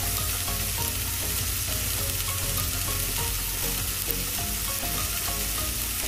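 Fish soup with calamansi cooking in a pot on the stove, giving off a steady, close, dense hiss and crackle of vigorous cooking that holds evenly throughout with no talking.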